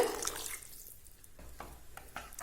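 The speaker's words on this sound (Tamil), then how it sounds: "குழம்புக்கு இன்னும் கொஞ்சம் தண்ணி தேவைப்பட்டா இந்த மாதிரி சேர்த்துக்கோங்க" Water is poured into a pan of Tamil-style curry gravy served with idli and dosa, making soft, quiet splashing and trickling with a few faint drips close by.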